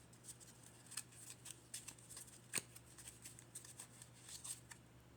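A deck of playing cards being riffled and shuffled in short repeated bursts during a solo tabletop role-playing game, quiet and close with a faint steady background hum.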